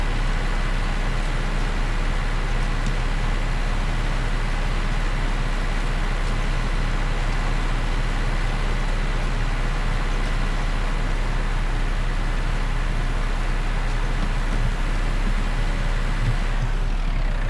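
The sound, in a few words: tractor engine driving in video game Farming Simulator 19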